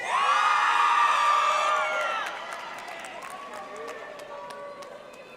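A crowd at a spring university commencement applauds and cheers for doctoral graduates. Loud whoops and shouts ride over steady clapping, which then fades to a softer, sustained patter of applause.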